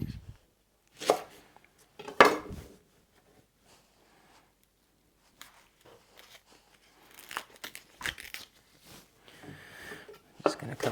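A knife chops a leek into little rings on a board, giving a few sharp, separate strikes early on and then a looser run of cuts later, with pauses between them.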